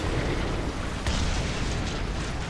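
A tank cannon fires and strikes its target in a tank combat game, one sharp, heavy report that rises briefly out of a dense, constant mechanical rumble.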